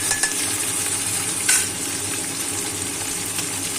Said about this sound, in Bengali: অল্প অল্প অল্প অল্প করে ভেজে তুলবো অল্প অল্প করে